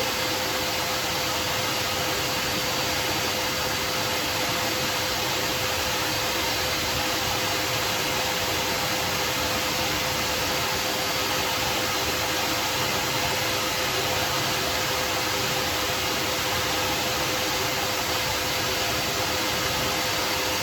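A dog grooming dryer blows a constant, loud rush of air through its nozzle, a steady broadband roar with a faint motor whine, unbroken for the whole stretch.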